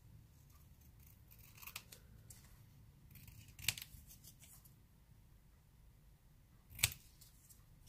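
Scissors snipping paper for a Halloween drink packet craft, a few close, sharp cuts spread out with quiet pauses between them, no talking over the snips.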